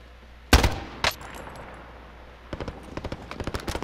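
Video-game gunfire in a shooter match: two sharp, loud reports early, then a quick rapid string of fainter shots near the end, with no one talking.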